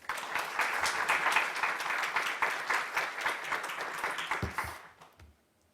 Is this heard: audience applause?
yes